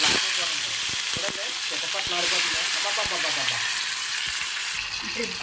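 Tomatoes fry in well-heated oil as the base of a crab curry, a loud continuous sizzle and hiss with occasional spatters, while a voice talks faintly underneath.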